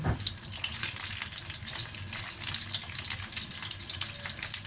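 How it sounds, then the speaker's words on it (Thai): Shrimp fry in oil over moderate heat, giving a steady crackling sizzle with dense bright spatter, continuous and close, with no talking. "ทอดกุ้งซะก่อน"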